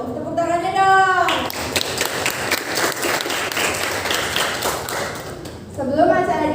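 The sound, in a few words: audience applause at a school student council election event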